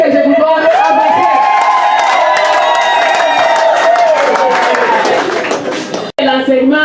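Loud crowd at a women's day celebration with cheering voices and clapping, sustained and close, with strong voiced whoops over the noise before a brief cutoff near the end.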